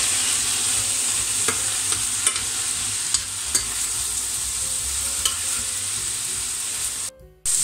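Leeks sauté in olive oil in a pot with a steady sizzle, broken by a few sharp scrapes and clinks of stirring, at close range and without talking.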